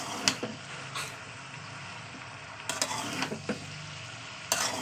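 Okra being stirred with pointed gourd and boiled potato in a frying pan: a few sharp scraping stirs over a low, steady frying sizzle, near and moderately loud.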